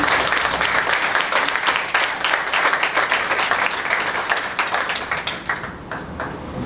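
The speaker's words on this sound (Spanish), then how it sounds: "Denle un fuerte aplauso al Señor." A church congregation claps loudly together in sustained, dense applause for nearly seven seconds, steady throughout and fading a little toward the end.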